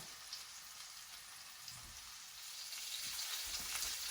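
Lamb chops sear in a hot pan with a steady, bright sizzle that swells slightly louder toward the end, close and continuous with no talking.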